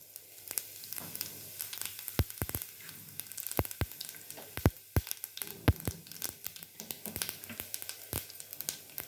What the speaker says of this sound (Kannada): ಸಿಡಿತಾ ಇದೆ ಸಾಸಿವೆ